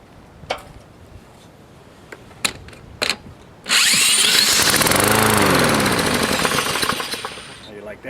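A Yard Machine lawnmower with a Briggs & Stratton 550E 140cc engine, a roadside find with its valve cover off, is spun with a drill after a few knocks and clicks, then fires and runs loudly, its pitch wavering as it settles.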